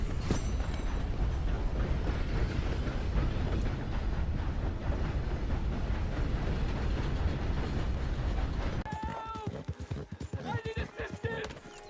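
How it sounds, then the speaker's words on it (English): A steam train in the Red Dead Redemption 2 video game, its dense rumbling rail noise and clatter filling the scene before cutting to quieter, sporadic clip-clop and ambient sounds. "This is my train."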